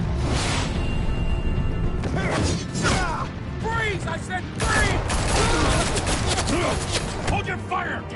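Bursts of rapid gunfire in a Batman game set around Arkham, loud and close, coming in several volleys mixed with crashes and whooshes, with voices shouting over the shooting.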